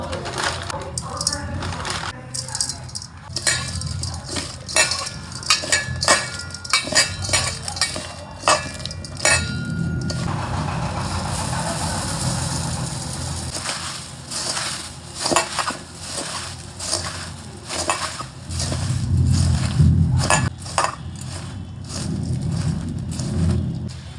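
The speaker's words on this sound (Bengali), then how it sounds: "চলো মুড়ি মাখানো হয়ে গেল" Puffed rice being mixed by hand with ginger, onion, cucumber and chilli, giving close rustling, crunching and light clinking of utensils in an uneven rhythm over about twenty seconds, with a voice speaking at times.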